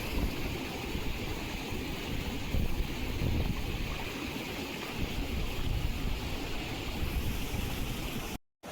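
Rushing water surges and churns in a continuous loud wash at the shore at night, roaring steadily with no pauses until it cuts off abruptly.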